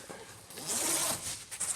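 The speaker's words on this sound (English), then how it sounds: "zip your ends" A zipper is pulled along the canvas end of a pop-up camper tent on a 2022 Rockwood high wall 277HW, a quick close ripping zip lasting about a second.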